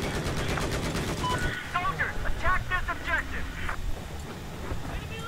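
Rapid automatic gunfire rattles in a Battlefield Conquest match, a dense burst at the start followed by scattered shots under a voice calling out.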